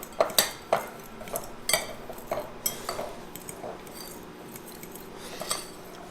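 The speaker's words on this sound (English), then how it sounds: "Mix that around a little bit." A spoon stirs Keto Chow pecan pie mix in a bowl, giving sharp clinks and scrapes in irregular bursts that thin out toward the end, close and with no speech.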